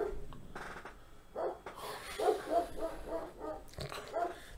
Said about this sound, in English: Fila, Brazilian Mastiff.